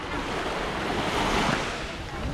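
Ocean surf washes steadily along the shore at the Aulani resort in Hawaii, a broad continuous roar of breaking waves mixed with wind buffeting the microphone, fairly loud and close with no break throughout.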